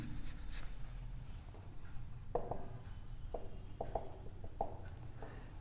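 Pen or chalk scratches steadily as a differential equation is written out by hand, with soft strokes and small taps close by in a quiet room.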